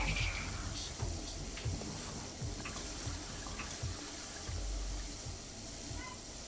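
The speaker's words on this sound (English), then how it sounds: "The sound of water has not stopped running." Water from a fountain in the video game Prey runs in a steady, unbroken splashing wash throughout, fairly loud and close, with faint voices now and then.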